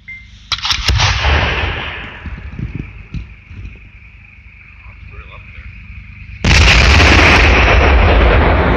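An explosive charge set off outdoors erupts at about 6.5 seconds as a loud, sustained broadband blast that stays strong to the end, after voices and sharp pops earlier in the clip.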